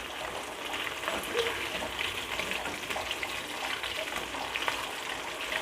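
Pieces of chicken pakoda fry in hot oil, a steady dense sizzle and bubbling that holds at an even level throughout, with no talk over it.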